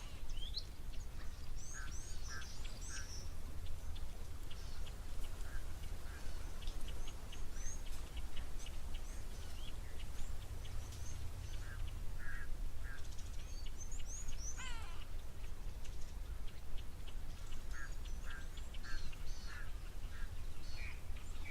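Birds resting at a waterhole give scattered chirps, quacks and short calls, some near and some farther off, over a constant low rumble of wind and outdoor background, with no talking.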